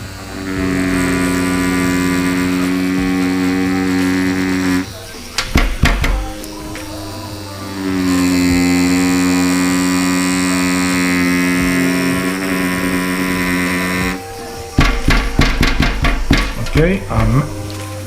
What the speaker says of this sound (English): I'll show you the difference between the liner and the shader.